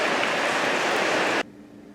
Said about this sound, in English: I think we better wait till the rain stops.